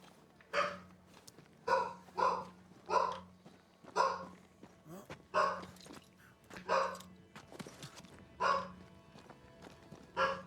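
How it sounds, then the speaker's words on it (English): Dogs bark repeatedly in Banishers: Ghosts of New Eden, about a dozen sharp, evenly spaced barks over a steady low in-game hum, fairly close and loud, with no talking. "I've upset the puppies."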